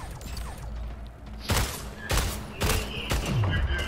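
Gunfire in the sci-fi arena shooter Splitgate: four sharp, loud shots spaced roughly half a second apart stand out over a low, steady game-audio bed.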